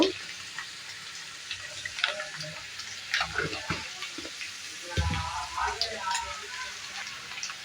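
Mutton liver fries in a pan with turmeric and salt, a moderate crackling sizzle with intermittent stirring scrapes and wet bursts, close and fairly steady.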